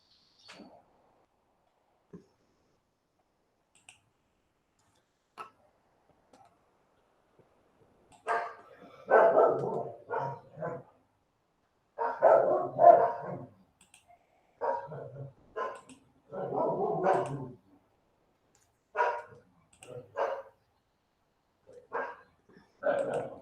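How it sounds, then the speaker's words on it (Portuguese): Several dogs barking in bursts that repeat through the second half, fairly close and fairly loud, after a quiet stretch with only faint scattered sounds. "minhas cachorras fugiram do lugarzinho que eu prendo para elas não latirem durante a aula"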